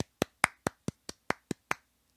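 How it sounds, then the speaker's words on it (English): A handful of sharp, evenly spaced claps for a podcast guest, about nine in a row from a single pair of hands. They are close and dry, with no crowd. "Applause."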